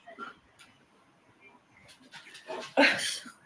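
A dog whimpers and whines in short, soft bursts, then lets out a sharp, louder bark and yip near the end, close by.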